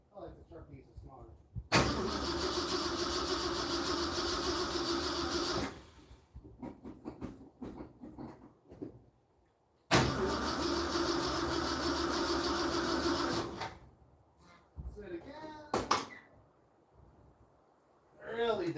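A classic Ford engine is cranked in two long, loud bursts lasting several seconds each. People talk in the quieter gaps between the attempts.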